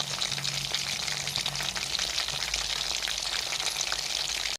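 Chicken 65 pieces sizzle steadily in hot oil, a dense continuous frying hiss close by, with no voices over it.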